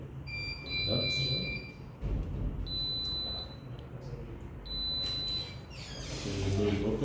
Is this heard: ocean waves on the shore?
no